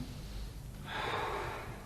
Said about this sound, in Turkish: İlk önce derin bir nefes alalım ki ciğerlerimiz açılsın.